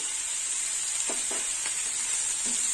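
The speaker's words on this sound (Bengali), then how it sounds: "হলুদটা একটু তেলের মধ্যে ভাজা হবে।" Turmeric powder and onion paste frying in hot oil give a steady, close sizzling hiss, with a few soft stirring clicks partway through.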